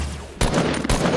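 Gunfire in a duos match of a shooter video game: a sharp burst of shots at about 0.4 s, then a second burst near 0.9 s, loud and close, with the shots rattling through a cluttered game soundscape.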